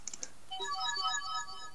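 A mobile phone ringtone going off, a short melodic run of electronic tones after a few quick clicks, fairly faint and alone.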